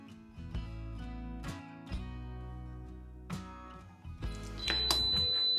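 A kitchen timer repeats an electronic chime, a simple tune of bright tones, moderately faint, with a higher ring near the end.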